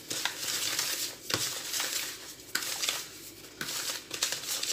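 Semolina is worked with oil by hand in a bowl for a honeyed pastry, a soft, continuous gritty rubbing and scraping with a few sharper rustling strokes.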